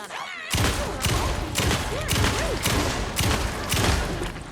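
Rapid bursts of gunfire from the video game Alan Wake 2, about five loud shots or short volleys spaced roughly half a second to a second apart, dense and booming with a brief quiet lead-in.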